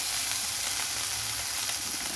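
Beef frying in a hot pan, a steady, dense sizzle running loud and close throughout with no voices over it.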